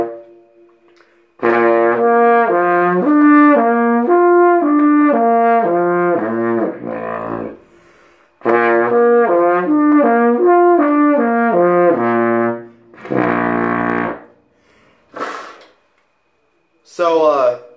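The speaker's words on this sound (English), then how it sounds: "When you put the mouthpiece back in the horn, the trombone sounds like this." A trombone played with its mouthpiece in the horn sounds a series of close, full brassy notes in two phrases of a short melody, with brief pauses between them.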